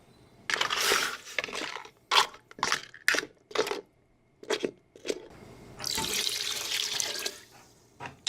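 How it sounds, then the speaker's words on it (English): Water poured into a pan deglazed with apple cider vinegar while cooking blue crab, a splashing pour in several bursts and then a steady rush near the end, close and fairly loud with no talk. "Now add water."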